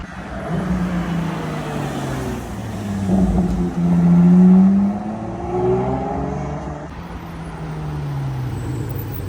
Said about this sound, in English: There's a lot of test cars riding by. There's a lot of branded Ferraris, even Lambo and McLarens.